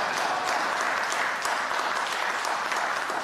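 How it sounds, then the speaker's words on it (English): Clapping from the gathered men at a memorial service celebrating a life, a steady sustained patter of many hands, fairly faint and distant with no talking over it. "Can you get all the brothers to please clap?"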